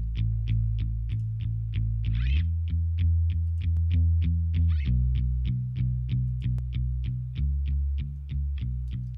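A cover song mix with EQ applied, a high pass around 65 Hz and cuts at 200 and 650 Hz, plays as a steady pulsing musical passage with repeated rhythmic notes and a few brighter swells, loud and continuous with no talking.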